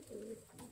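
Diamond doves kept as pet birds give a short, soft, close coo, a single low murmuring call in a quiet room.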